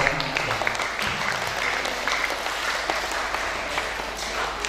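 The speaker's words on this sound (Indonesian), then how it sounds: "Tepuk tangan." Dense applause from a crowd, steady and fairly loud throughout, with a few voices mixed in.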